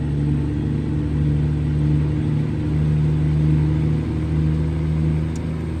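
Steady low engine drone of a Peterbilt day cab truck in a truck-driving video game, hauling a heavy load of huge tires, rumbling continuously and loud with a slight rise and fall in pitch, no talk.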